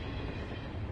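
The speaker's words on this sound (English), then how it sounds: "It was the train." A train passing in the Batman: Realm of Shadows video game, heard as a dense, loud rumbling rush of rolling railcars filling a brief moment with no speech.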